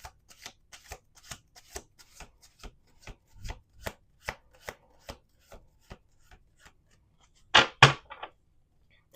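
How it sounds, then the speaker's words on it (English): Tarot cards being shuffled close by in a steady run of quick, papery riffle bursts, ending with one longer, louder shuffle; no voices. "Let's do two more shuffles here."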